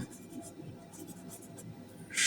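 Pen writing on paper in a worked math lesson, with soft, close scratchy strokes in short bursts under a faint room hum and no speech.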